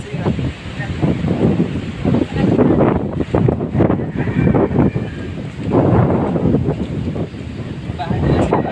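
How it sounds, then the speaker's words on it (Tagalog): Strong typhoon wind from Typhoon Odette roars continuously around houses, with gusty rushing and buffeting on the microphone and no break in the noise. "Sobrang lakas ng hangin"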